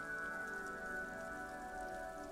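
Rain falling onto the roof of a woodshed in a yard, a steady, even patter of drops with a faint continuous hum underneath, no voices.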